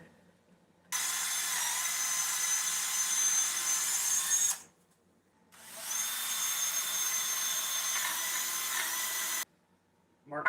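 Two long bursts of a high-pitched power drill whining through material, separated by a short pause, close and loud.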